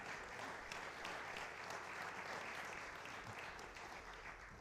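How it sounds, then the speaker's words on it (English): An audience in a church service applauds couples coming up on stage, a steady, even wash of clapping that is faint and distant throughout, with no voices standing out. "give these people a round of applause"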